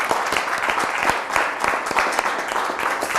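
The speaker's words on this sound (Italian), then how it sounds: "facciamo un applauso a Claudio perché è sempre preparato" A studio audience at an Italian quiz show applauding a contestant, brisk continuous clapping from many hands filling the whole stretch, fairly close and even.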